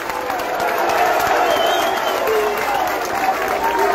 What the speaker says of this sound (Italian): Facciamogli sentire il nostro calore con un grandissimo applauso